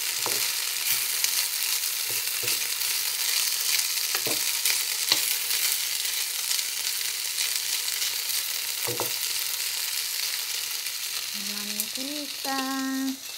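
Potatoes frying in cooking oil give a steady close sizzle throughout, broken by a few scraping stirs and clicks, with a short voice near the end.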